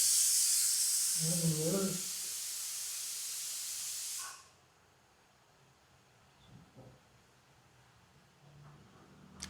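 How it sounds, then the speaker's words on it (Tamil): A loud steamy hiss from a kitchen pressure cooker whistle, cooking cassava, runs for several seconds then cuts off, with a voice briefly heard over it and quiet room sound after. "விசில் விசில் குக்கர் விசில் வரட்டும்"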